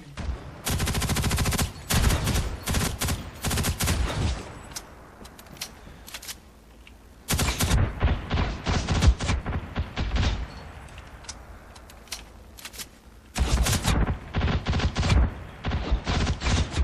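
Gunfire in the online shooter Ghost in the Shell: First Assault Online arrives as rapid automatic bursts with single cracks mixed in. The clusters are loud and close, broken by short pauses of near quiet.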